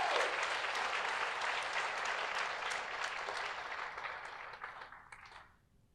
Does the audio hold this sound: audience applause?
yes